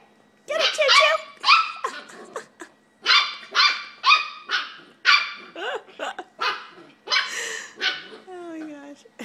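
A puppy gives a rapid series of high, yappy barks and yips, about a dozen close bursts in quick succession, ending in a whiny whimper.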